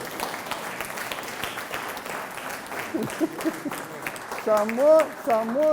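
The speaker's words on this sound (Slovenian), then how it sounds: "Dajte en aplavz tem damam" An audience at a Lenten lecture applauds the ladies, a steady patter of clapping that runs under a voice, with someone speaking more prominently toward the end.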